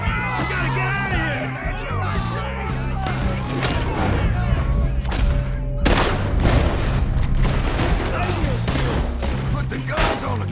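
Gunfire erupts in a Red Dead Redemption 2 shootout: loud, dense volleys of shots and booms crack repeatedly over shouting men and battle noise, with voices yelling through the chaos.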